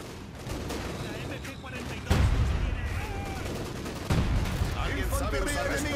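MG-42 machine gun fire in the World War II video game Company of Heroes 2 at Stalingrad, with dense battle noise and heavy impacts jumping in loudness near 2 and 4 seconds under shouted voices.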